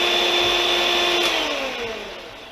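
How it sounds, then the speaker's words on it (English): An electric mixer whirs steadily as it beats butter and sugar, a high motor whine that holds and then slowly drops in pitch and loudness toward the end. "Now I'm going to beat this butter and sugar in a mixer for about 3 minutes"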